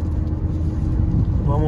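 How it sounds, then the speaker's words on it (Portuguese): A Citroen C4 Cactus cruising on a highway, heard from inside the cabin: a steady, loud low rumble of road and wind noise throughout, with no distinct engine changes. "Vamos de estrada com C4 Cactus."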